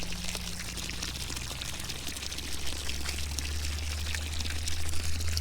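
Water pours steadily into a muddy pig wallow on a farm, a close, continuous splashing rush over a low motor hum from a hose or pump.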